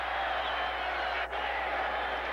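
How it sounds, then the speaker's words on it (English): Dense roar of a large football crowd cheering inside Texas Stadium during a 1983 Raiders at Cowboys game, a steady distant wash of noise holding level throughout. "Never heard a crowd like this in Texas Stadium"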